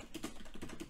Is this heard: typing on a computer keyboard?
yes